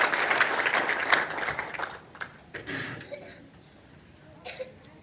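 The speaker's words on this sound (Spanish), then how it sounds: "Un aplauso al Señor en esta mañana" A church congregation applauds on a Sunday morning, a dense wash of clapping for about two seconds that thins and fades, followed by scattered coughs, throat clearing and a few faint voices.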